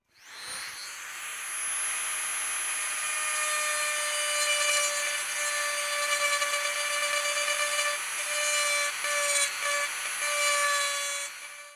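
A high-pitched rotary tool whines steadily for the whole stretch, carving into a wooden serving tray with slight wavering pitch and no talking.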